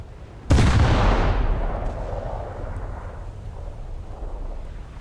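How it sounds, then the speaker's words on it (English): In a naval combat video game, a torpedo strikes a ship with a sudden loud explosion, followed by a long rumbling decay that fades over several seconds. "Ah, a torpedo hit something."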